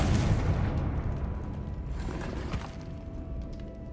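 A Confringo spell explosion in Hogwarts Legacy, a deep rumbling boom that starts loud and slowly fades over several seconds, heard alone.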